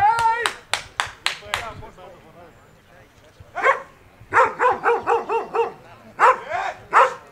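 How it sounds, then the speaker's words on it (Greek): A dog barks angrily in short, sharp bursts, first a quick volley, then a pause, then repeated loud barks close by, with some yips in between. "Φωνάζει, αγριεύει ο σκύλος."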